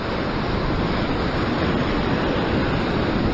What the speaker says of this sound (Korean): 파도는 나한테 오는 것 같지만, 저 파도의 물 속 안에서 보면은 물 속은 밖으로 나가고 있습니다